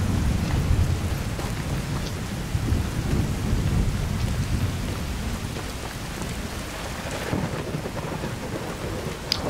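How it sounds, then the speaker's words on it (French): Steady rain and rolling thunder in a Skyrim storm, a dense continuous wash of rainfall with low rumbling swells, heavier near the start and occasional brighter cracks, no voices. "En plus, c'est de l'orage."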